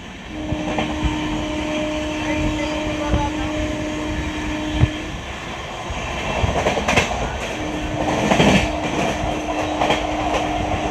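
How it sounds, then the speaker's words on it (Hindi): The New Delhi–Dibrugarh Rajdhani Express rushes past from the opposite direction with a loud, continuous roar and clickety-clack of wheels, swelling to a peak near the end while a steady tone hums beneath. "सामने से आ रही है नई दिल्ली डिब्रूगढ़ राजधानी एक्सप्रेस फ्लैट 130"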